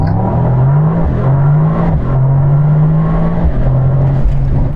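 A car accelerating hard on the Autobahn, its engine note rising steadily through several gear changes, loud and close with no talk over it.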